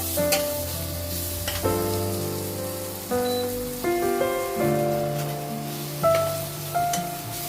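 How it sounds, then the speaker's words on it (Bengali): Amla (Indian gooseberries) stirred and fried in a pan with a tablespoon of spice powder, a soft continuous sizzle under scraping spatula strokes, close and steady, with strong tonal background music running throughout. "ভালো করে আমলকিগুলো একটু নেড়ে ছেড়ে নিচ্ছি"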